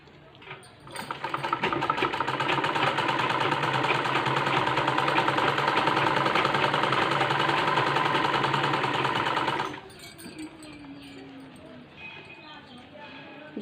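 A sewing machine stitching a fall onto the hem of a saree, running in a fast, steady whir for several seconds before stopping, followed by quieter handling noises.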